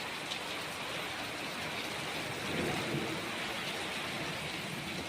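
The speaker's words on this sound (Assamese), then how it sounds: "এই বেয়া বৰষুণ একদম শিলৰ দলিচা মাৰি দিছে" Heavy rain mixed with hail pours down in a steady, dense roar, with a faint low rumble of thunder underneath.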